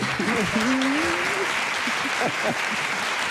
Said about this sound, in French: Les gens t'aiment et t'applaudissent.